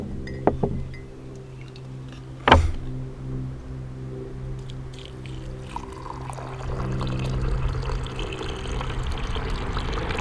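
A brief clink is followed by a steady stream of hot water pouring into a cup, a soft continuous trickle that grows slightly fuller.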